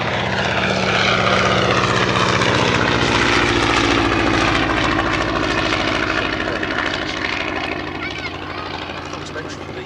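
Avro Tutor biplane with its 240 horsepower Armstrong Siddeley Lynx IV radial engine, a loud sustained propeller drone with a steady throbbing note that fades slightly near the end, heard alone.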